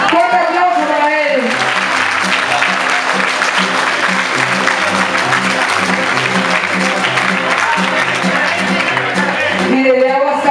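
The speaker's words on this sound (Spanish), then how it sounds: "¡Fuerte aplauso para él!" An audience applauds a guitarist at a festival performance, loud sustained clapping filling the whole stretch, with a voice over the start and end and music tones underneath.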